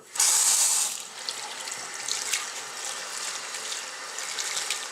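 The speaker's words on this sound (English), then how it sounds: "I'm just rinsing off my sponge again." A kitchen tap runs steadily as a makeup sponge is rinsed beneath it, with a louder burst of water at the start settling into a continuous splashing flow, close and alone.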